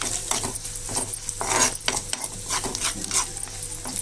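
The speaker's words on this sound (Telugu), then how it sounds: "కారం కూడా వేసేసుకుని వేపేసుకోండి" Leftover rice with egg and chili powder stir-fried in a pan, metal spatula scraping and clinking repeatedly in quick irregular strokes over a soft sizzle, near and unaccompanied by speech.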